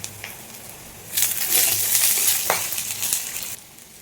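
Curry leaves and green chillies hit hot oil, a quiet hiss that flares into a loud crackling sizzle, with spattering pops and a few stirring clinks before it settles down again.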